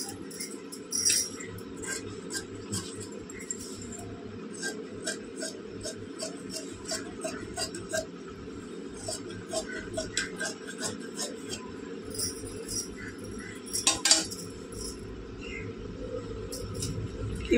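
Scissors cutting blouse fabric on a work surface, heard as soft, close, irregular snips and clicks in quick succession over a quiet background hum.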